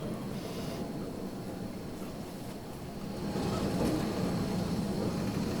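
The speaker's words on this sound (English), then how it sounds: "the train is now connected, so it pulls the long line of carriages out onto the main road" A steady low rumble of a train at Palma's Soller railway station pulling a long line of carriages out onto the main road, continuous and moderately loud, growing slightly heavier partway through.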